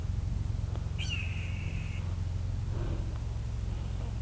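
A small hawk-type bird gives a single thin, drawn-out whistled call from some distance, faint over a steady low mechanical hum, followed by a softer brief note.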